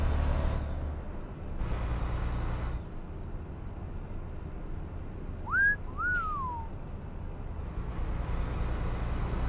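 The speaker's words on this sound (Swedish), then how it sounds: "Min bil och lastbil kan låta som en ambulans." A truck in the Euro Truck Simulator 2 game gives two short wailing, ambulance-like siren sweeps in the middle. They rise over a steady low engine and road rumble, with no talk.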